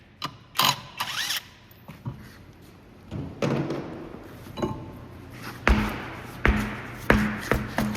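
A ratcheting wrench works on 12mm brake caliper bolts of a 2014-2020 Honda Accord during a rear wheel bearing job, with bursts of close mechanical clicking, metallic clanks and thuds in irregular spurts.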